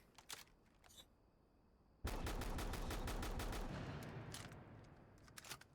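Shotgun fire in Rainbow Six Siege: a few scattered shots, then from about two seconds a loud sustained burst of rapid repeated blasts that slowly thins, followed by a few more isolated shots.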